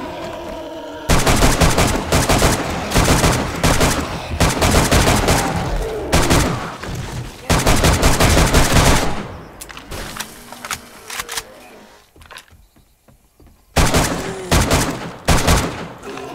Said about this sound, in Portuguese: como tá lindo o som dessa pistola